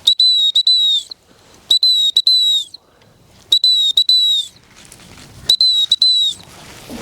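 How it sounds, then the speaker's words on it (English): A shrill, high hunt whistle for spaniels sounds in short repeated bursts, two or three quick blasts per group, spaced by brief pauses against quiet outdoor background. "We'll try and put the hunt whistle on."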